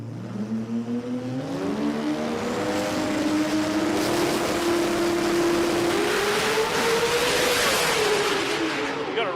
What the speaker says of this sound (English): 2JZ versus the mighty RB. Let's let the 6-banger sing here.